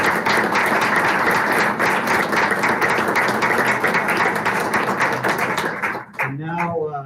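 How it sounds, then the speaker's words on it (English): A room full of people applauds students at a school district board meeting, with loud, sustained clapping for about six seconds before it cuts off and a voice begins speaking. "Let's give them a big round of applause."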